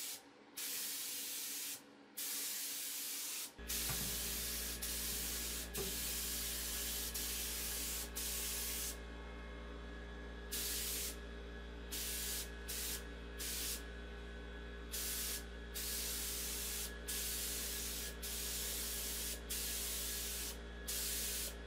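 A paint spray gun spraying the inside of furniture in repeated bursts of loud hiss, with short pauses between passes over a steady low compressor drone.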